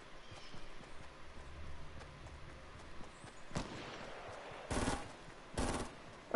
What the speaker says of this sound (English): Oh shoot, he's shooting at me.